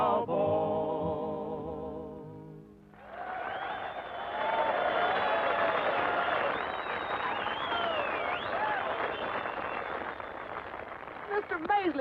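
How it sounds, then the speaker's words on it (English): A song ends, then a big rodeo crowd roars and cheers in a broad, sustained wash of noise with shouts and whistles rising over it for several seconds. "did you hear that crowd cheering?"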